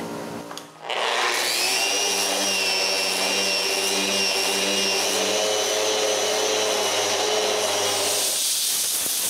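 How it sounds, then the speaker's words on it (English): An electric sander works a CNC-cut wooden profile, starting after a brief pause and then whirring loud and steady with a hissing, airy tone before it stops near the end. "This time around, I use my sander on the profile."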